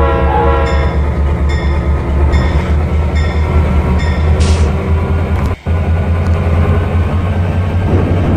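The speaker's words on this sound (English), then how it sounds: "The excursion train was doing great." An excursion train pulls away with a loud, steady rumble and rhythmic clickety-clack, punctuated by a short horn blast near the middle, heard close and without voices.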